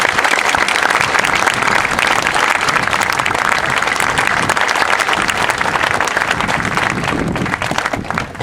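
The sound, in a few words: audience applause for parents at Marine Corps OCS graduation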